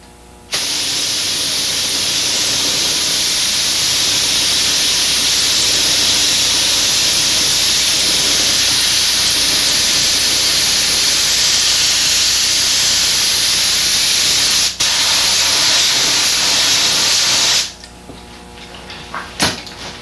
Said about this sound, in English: spray a light coat of flat black over it